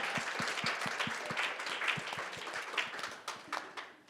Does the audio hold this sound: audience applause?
yes